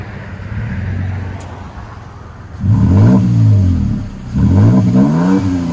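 Exhaust note of a 2018 Toyota Tacoma TRD Pro 4x4 with its 3.5-liter V6 and Borla Pro-XS exhaust: a steady low idle, then two loud revs that swell and fall back, close by.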